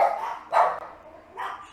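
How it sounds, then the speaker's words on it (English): A neighbour's dogs barking outside, three separate sharp barks spaced unevenly across under two seconds, fairly loud and clear with no talking. "you're continuing to let your unruly animals bark and create out there."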